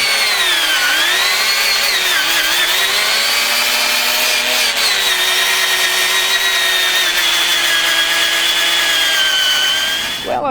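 A power sander whirs steadily against burl wood, its loud, shifting whine rising and dipping slightly before cutting off at the end.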